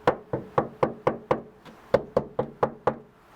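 Knuckles knock on a bare metal panel of a 1982 Dodge D50 pickup before sound deadening, making about a dozen loud, close, hollow knocks in a steady rhythm with a brief pause midway.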